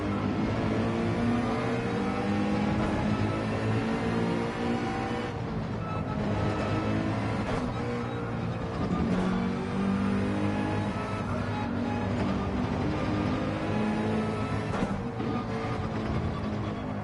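Race car engine from Gran Turismo 7, a Manufacturers Cup qualifier with worn-out tyres on an in lap, drones steadily throughout with shifting revs and no talk.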